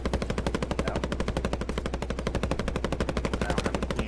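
Rapid automatic gunfire in the Call of Duty: Warzone video game, a loud sustained burst of evenly spaced shots rattling continuously for several seconds.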